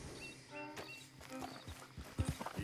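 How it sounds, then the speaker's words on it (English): Horse being groomed with a brush in Red Dead Redemption 2, with soft rhythmic scrubbing strokes, light hoof shuffles and a brief snort amid ambient outdoor game sounds. "Just giving my horse a brush."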